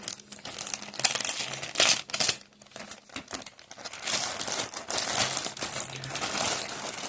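A parcel shipped from China, holding cotton shower filters, is torn open: loud close crinkling and crumpling of plastic packaging in irregular bursts, with brief tearing and rustling throughout.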